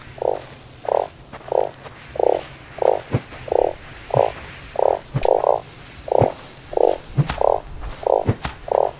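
Frog croaks from the video game Starsand, a steady series of about fourteen short, evenly spaced croaks, each clear and fairly loud against a low background hum, with faint clicks in between.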